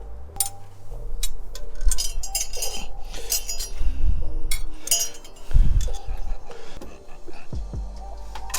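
Metal tools clink and bolts scrape while a GM alternator is fitted into an 87 Mazda B2000 engine bay, with irregular close taps and rattles against a low background hum.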